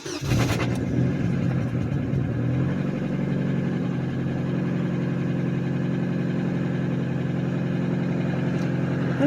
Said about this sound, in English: I'm going to rev it.